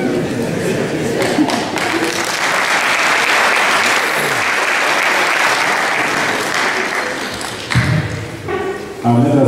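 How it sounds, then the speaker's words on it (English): Audience applause after a keynote speech, loud sustained clapping swelling across several seconds before tapering off, with voices and a few thumps breaking through toward the end. "let us give him another applause"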